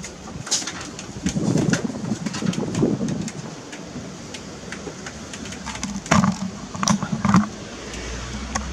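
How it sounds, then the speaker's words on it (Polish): Pigeons in a breeder's loft in Poland, with soft cooing and bird calls rising and falling over a steady background rumble, with brief sharper bursts near the end. "To są gołębie Ryszarda."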